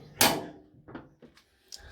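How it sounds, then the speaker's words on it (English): A car hood is opened with one loud metallic clunk, followed by a few softer knocks and small rattles close by. "let me open the hood."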